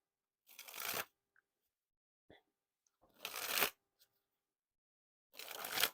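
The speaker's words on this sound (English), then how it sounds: "You got that kind of like a lighter feeling dribble there, because they're like the thinner cards here." Thin Zebra King Slayers playing cards dribbled from hand to hand in three short, crisp fluttering bursts, close and quiet, separated by near silence.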